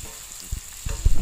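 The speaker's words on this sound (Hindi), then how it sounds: "अब हम इसमें जो प्याज हमने कट करके रखा था उसे ऐड कर देते हैं। प्याज को भी गोल्डन ब्राउन होने तक हम इसे अच्छे से भून लेंगे।" Chopped onions frying in a pan for baingan bharta give a soft steady hiss, broken by a few low knocks and clatters from stirring that grow busier toward the end, close up with no talking.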